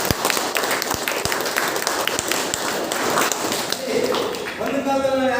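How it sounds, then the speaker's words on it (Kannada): An audience at a group gathering in Chintamani, Chikkaballapura district, Karnataka claps loudly in a dense, sustained burst of applause that fades as a voice begins speaking near the end. "mister Mohammed sir and Naveen ಸರ್ಗೆ ಜೋರಾದ ಚಪ್ಪಾಳೆ ಕೊಡಬೇಕು"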